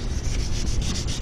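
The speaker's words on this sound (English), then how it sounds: "Now, if you don't sand it correctly" A car's scratched paintwork is sanded by hand, giving a continuous, close, rough rubbing sound with rhythmic strokes.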